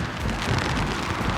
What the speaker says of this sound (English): It is super windy right now, and it is raining a little bit